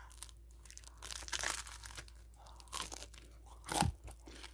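A sharp, crackly crunch of a bite into the crisp crust of a seasoned Tuscan Dutch oven loaf, followed by a few drier crunching chews, close up and with no talking.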